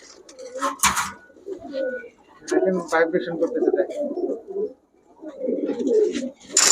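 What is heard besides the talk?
pigeons cooing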